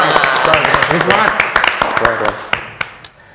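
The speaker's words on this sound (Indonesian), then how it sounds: "Tepuk tangan semua, tepuk tangan." A school audience claps to welcome a guest teacher to a student podcast. Quick, sharp claps and crowd voices blend, then thin out to a few isolated claps near the end.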